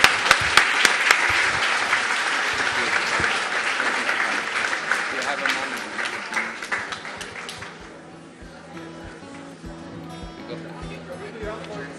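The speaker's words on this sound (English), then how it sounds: "Big round of applause and a thank you to our guest speaker, Mossad Hassan Yusuf" An audience at a lecture in a synagogue applauds a guest speaker, dense steady clapping that fills the room for several seconds before thinning and fading under low murmurs and scattered later claps.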